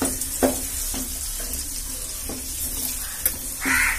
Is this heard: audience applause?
no